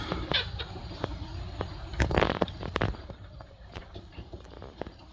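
Chickens on a farm cluck in short scattered bursts alongside sharp scratching and pecking clicks nearby, with a busier cluster of calls midway and softer activity trailing off toward the end.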